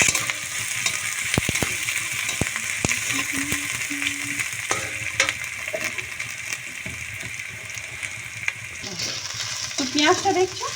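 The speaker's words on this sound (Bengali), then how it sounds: "পেঁয়াজটা আমি খুব ভালো করে ভেজে নেব" Sliced onions fry in hot oil with a bay leaf and panch phoron in a pan, a steady close sizzle broken by scraping stirs and clinks of the spatula, with a short voice near the end.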